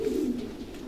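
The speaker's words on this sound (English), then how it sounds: "This is a very famous pigeon around here, Mr. Goddard, Dave Goddard of Reading." A racing pigeon gives a soft, low, rolling coo at close range, one brief call on its own.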